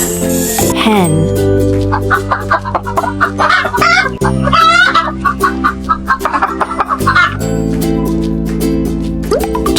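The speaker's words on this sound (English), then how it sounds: "Hen." A hen clucks in short bursts over steady background music, with a brief jingle near the start; the clucks sound close and fairly loud.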